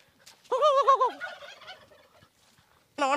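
Turkey gobbling, a loud warbling call with rapid pitch wobble, then a short quiet gap and another gobble cut off at the end; no talk.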